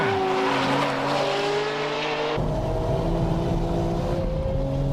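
A Nismo and a Ferrari Modena race uphill, their engines roaring loud and steady with strained high revving and a sudden shift in tone midway as one car passes close by.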